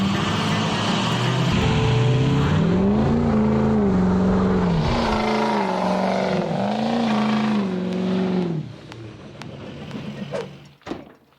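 A stretched six-door Ford F550 Super Duty with a 6.0 engine revs hard in a burnout attempt on one tire. The loud, close roar climbs and dips through several surges, then drops off to an idle with a few clunks.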